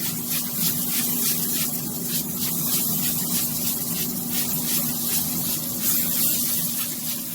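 Beer spritzed from a spray bottle onto beef ribs on a Pit Boss Tailgater pellet grill, a steady close hiss of misting with a faint underlying hum, no talking.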